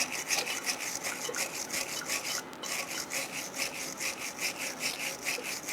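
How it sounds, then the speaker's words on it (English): Wire brush scrubbing rust scale out of the caliper slide areas on the rear brakes of a 2005-2010 Chrysler 300, a steady close, rhythmic back-and-forth rasping that runs the whole time with no talk. "So brush this out, make sure it's nice and clean."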